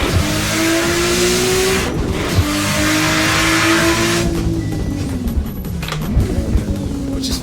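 A GT2 race car in Assetto Corsa roars loudly and continuously, engine pitch climbing through gears with shifts and revving, dominating throughout with no talk over it.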